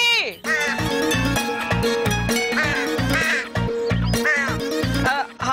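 A crow caws repeatedly, close and loud, its harsh calls mixed with voices talking over it in a Pakistani comedy drama scene.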